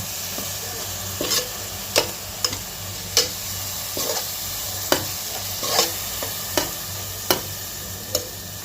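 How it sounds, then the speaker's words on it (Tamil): Curd being stirred into mutton curry in a pan, with a spoon scraping the pan in repeated sharp strokes over a steady background sizzle. "அதையும் நல்லா இது கூட மிக்ஸ் பண்ணி விட்டுக்கோங்க மக்களே"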